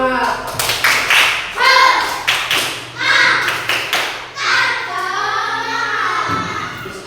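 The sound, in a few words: class doing a rhythmic spirit clap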